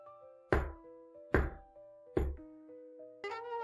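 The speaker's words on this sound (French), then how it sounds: "Elle s'approcha de la maisonnette et frappa doucement." Three gentle, evenly spaced knocks on the door of a little house in a forest, each ringing briefly over soft musical tones, with a brief chime at the end.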